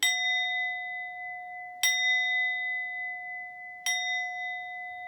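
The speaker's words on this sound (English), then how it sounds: "So I'm going to ring our singing chime." A singing chime is struck three times at even intervals, each strike a bright metallic ding that rings on with a long, pure sustained tone, alone and clear.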